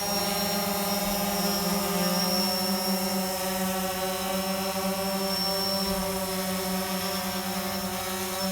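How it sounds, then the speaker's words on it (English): A DJI Phantom 4 drone hovers and moves about during a first flight, its rotors giving a loud, continuous, even buzz that stays steady throughout without speech. "You see the drone moving around."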